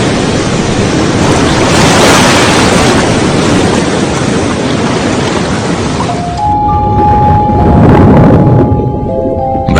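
Loud, continuous roar of ocean waves and surf breaking off the coast of Sri Lanka, a dense wash of noise that swells and recedes, with a tonal drone entering in the last few seconds.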